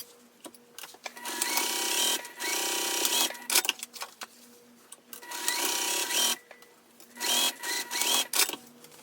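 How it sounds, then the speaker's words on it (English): A sewing machine stitches down the sides of a pocket lining for a crossbody bag in several bursts of rapid whirring, with short pauses between runs, close and clear. "sew down the sides of the pocket lining on both sides"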